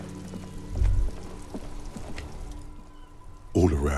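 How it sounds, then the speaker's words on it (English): Rain in Disco Elysium falling over the city of Revachol, a steady patter and drip across the whole stretch with a low thud near the start and a louder burst at the end. "All around you, rain falls on the great city of Rivershot. Rain drips from the eaves and floods the gutters"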